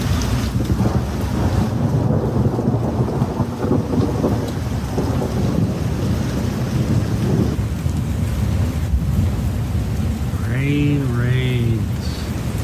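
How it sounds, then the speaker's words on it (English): Steady heavy rain pours through a thunderstorm, with low rumbling thunder underneath, and a voice speaks briefly near the end. "It's raining. It's thundering. You can hear it."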